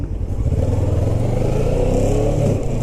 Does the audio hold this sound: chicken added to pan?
no